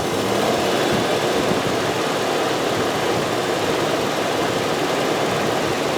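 Plymouth Barracuda engine held at high RPM with its radiator fan running, a dense, steady roar and rush of moving air that stays loud and unbroken throughout.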